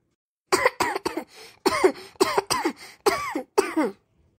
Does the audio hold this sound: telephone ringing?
no